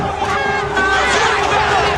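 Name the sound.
enraged crowd of slaves and masters in Game of Thrones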